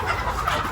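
Chickens in a free-range coop call and gobble-cluck briefly amid a busy, constant background of farmyard noise, heard at moderate distance.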